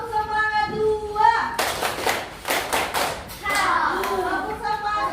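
A classroom group bangs out a second round of tepuk semangat, bursts of loud rhythmic group claps in a quick patterned sequence, framed by a chanted or spoken voice before and children's voices after.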